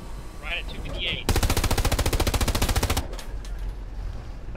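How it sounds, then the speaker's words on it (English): Sustained automatic gunfire burst from the World War II shooter Hell Let Loose, a rapid even stream of loud shots lasting under two seconds, with quieter battlefield ambience and faint voices before and after. "I saw two shots go right through him"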